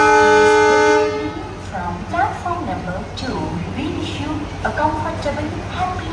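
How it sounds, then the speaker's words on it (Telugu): A train pulls into Secunderabad Junction railway station, opening with a loud sustained horn blast that fades into rumbling carriage noise and station bustle, with people talking intermittently throughout. "సికింద్రాబాద్కి అయితే ట్రైన్ వచ్చింది అనమాట"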